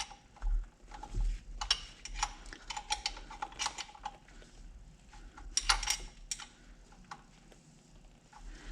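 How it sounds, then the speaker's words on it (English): A ratchet clicks in quick, light bursts while thermostat housing bolts are snugged on a Ford Mustang 5.0 V8 engine, with short pauses between runs of close, crisp ticking. "I'm just gonna tighten them up lightly on both sides here."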